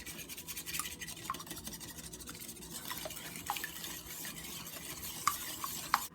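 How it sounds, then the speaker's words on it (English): A whisk beating wet custard ingredients, vanilla and strawberry extract among them, in a bowl, producing a steady, fairly soft rapid swishing with occasional light clinks against the bowl. "we're going to whisk these wet ingredients together until they're well incorporated"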